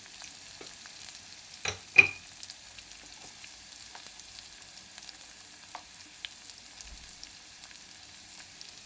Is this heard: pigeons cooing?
no